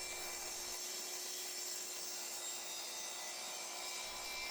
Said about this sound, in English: I cut an outside miter on two pieces and then trimmed one edge off at 90 degrees.